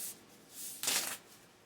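Crinkly stuffing paper is pulled out of a brown Dooney and Bourke Baguette handbag, soft rustles building into one louder crumpling pull before fading, close and alone.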